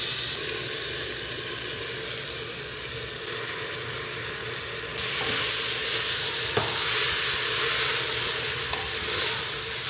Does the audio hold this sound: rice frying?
yes